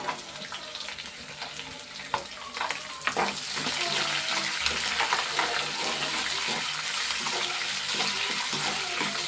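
Chopped green chillies fry in hot oil with a steady crackling sizzle, broken early on by scattered stirring clicks, then settling into a fuller, even hiss.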